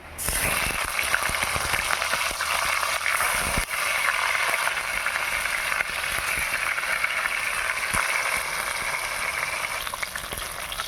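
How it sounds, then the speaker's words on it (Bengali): Silver carp frying in hot mustard oil in a wok, a steady loud sizzle and crackle running unbroken for the whole stretch with no talk over it. "এবার মাছ ভেজে নেবো"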